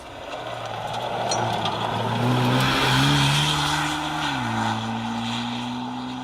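A rally car, number 95, drives through a stage of the Nicky Grist Stages event. Its engine drones loudly and steadily nearby, the pitch climbing and then dropping as it shifts gear and passes.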